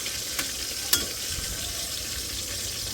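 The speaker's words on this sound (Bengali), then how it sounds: "ভাজতে দিছি বেগুনগুলো" Brinjals frying in a pan give a steady, close, even sizzle and hiss throughout, with a couple of faint clicks and no talking.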